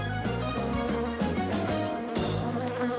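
A cartoon honeybee buzzes as it flies, a continuous droning hum that wavers in pitch over background music, with no talking.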